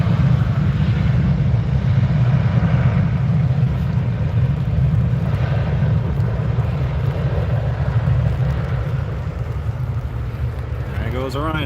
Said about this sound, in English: There goes a Ryanair.